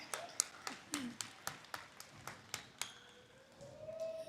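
Scattered, sparse claps from an audience at a junior high school awards ceremony, roughly a dozen distinct hand claps in an uneven rhythm, fairly faint and distant, with a soft tone rising near the end.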